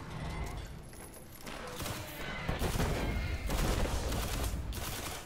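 Sustained gunfire in Destiny pounds at a knight enemy, a dense continuous volley of shots with a brief quieter lull midway; faint talk.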